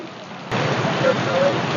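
Heavy rain pours down in the town of Eluru, a steady broadband wash that swells noticeably about half a second in and then holds constant and fairly loud.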